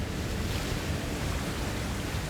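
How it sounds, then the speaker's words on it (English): Broadband rushing water from a waterfall in the video game Avowed, a steady dense roar with no talking, constant in level throughout the short stretch. "Nothing behind this waterfall."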